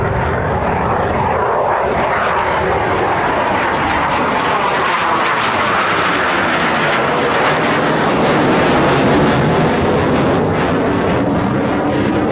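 An RAF Eurofighter Typhoon jet flies a low display at about 500 feet, its engines a loud, unbroken roar that swells and shifts pitch as the aircraft sweeps past, with no speech.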